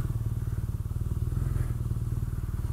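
A BMW R nineT motorcycle rumbles steadily and loudly up close as it sets off, its engine pulsing in an even, throbbing rhythm throughout.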